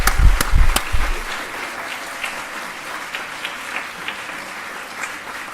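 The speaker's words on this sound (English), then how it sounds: "Round of applause for all of them." At a weekend college graduation, a crowd applauds the graduates; a few loud close claps come first, then sustained, softer clapping spreads through the hall.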